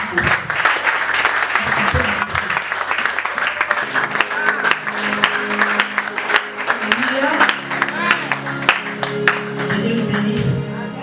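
A church congregation applauds in sustained, dense clapping that fills the room, with voices and cheers rising through it and a speaker heard near the end as it thins out.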